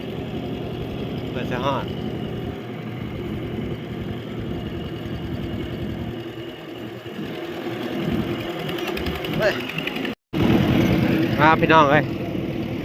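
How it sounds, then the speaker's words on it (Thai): A two-wheel walk-behind farm tractor engine chugs steadily while being ridden after rain, a continuous close mechanical drone under someone talking throughout. "ขี่รถไถมาพี่น้อง"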